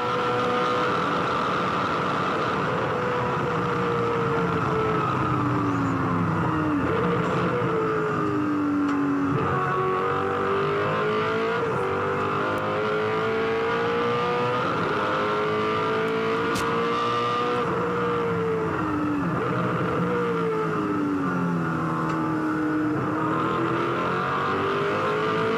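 Mark Skaife's race car roars in an onboard view at the 2003 Bathurst 1000, its engine note loud and constant, climbing through the gears and dropping on the downshifts for the whole stretch with no talk.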